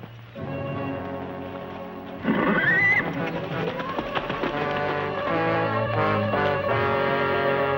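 A horse whinnies loudly, a long high neigh rising over hoofbeats, followed by galloping clip-clop and more neighing, close and prominent with no talk.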